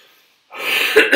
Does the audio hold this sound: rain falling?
no